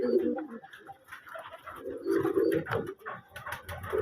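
Racing pigeon chicks coo in low, throaty, repeated bursts, close and fairly loud, with short pauses between phrases and faint background noise.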